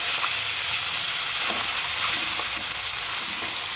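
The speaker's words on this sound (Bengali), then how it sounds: "একদিকে ডালটা সিদ্ধ করছি আর অন্যদিকে আমার মাছের মাথাটা ভেজে নিচ্ছি।" A fish head fries in hot oil beside a pot of boiling dal, giving a constant, loud, even sizzle and hiss throughout, with faint stirring clicks and no voices.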